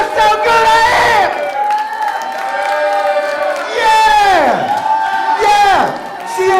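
Crowd at an IZW wrestling show cheering, whooping and clapping, swelling in loud waves with shouted voices and sliding whistles or yells rising and falling, close and boisterous throughout.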